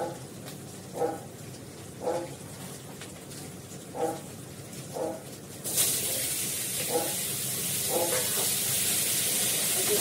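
Green peas and Kashmiri chili powder go into hot oil with small potatoes and whole-spice tempering in a kadai. Faint soft knocks come first, then a sudden loud, steady sizzle and hiss that keeps going to the end.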